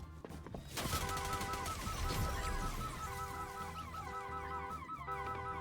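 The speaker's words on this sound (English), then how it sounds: "There's still gunshots." Rapid bursts of Fortnite gunfire crackle continuously, layered over steady music and electronic tones, with no talking.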